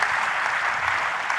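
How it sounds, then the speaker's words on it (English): Audience applause at an AI and machine learning conference day in Bangkok, a steady, dense wash of clapping from a crowd filling the whole moment without any speech. "give him another round of applause."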